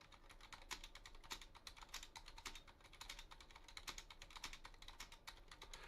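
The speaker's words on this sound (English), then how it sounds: "I can't talk when I'm typing that long password because it's super long." Someone typing a long password on a computer keyboard: rapid, uneven clicking keystrokes in close, quiet bursts, continuous with no talking.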